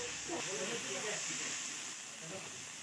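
A chili, onion and tomato paste sizzling in oil left over from frying fish, giving a soft steady hiss with light bubbling crackle, fairly quiet and close.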